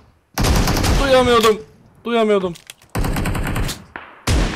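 Gunfire in the mobile game PUBG Mobile, several loud bursts of shots separated by short gaps, with a voice speaking between them.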